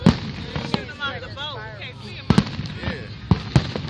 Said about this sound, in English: I can't see the fireworks.